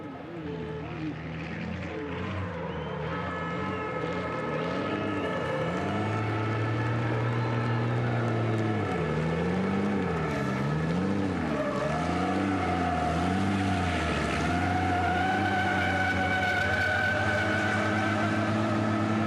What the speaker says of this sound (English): And once again, a very well done to Norby, who's going to show us exactly how you drift a race truck.